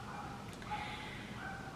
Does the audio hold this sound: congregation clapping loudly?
no